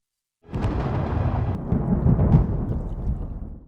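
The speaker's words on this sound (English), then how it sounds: "Night has fallen, and the storm has begun." A night thunderstorm with thunder and rain, a dense broadband rumble that starts abruptly and holds loud throughout, with a swell near the middle.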